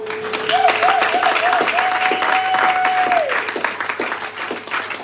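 Church congregation applauding during a Pentecost Sunday worship service, dense sustained clapping throughout with a crowd wash, loud and close, while a sustained tone glides across the middle.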